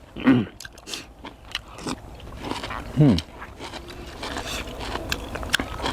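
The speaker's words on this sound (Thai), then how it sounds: "ตะไคร้กรึบๆเลยคุณผู้ชม" Crunchy chewing and biting on lemongrass in a bitter Thai offal soup, a few close, sharp crunches spaced out amid soft mouth noises, with talk around them.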